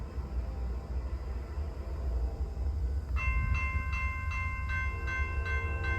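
A northbound Norfolk Southern freight train rumbles past nearby with steady heavy rolling noise, then a loud horn sounds in repeated blasts over the clatter of the cars.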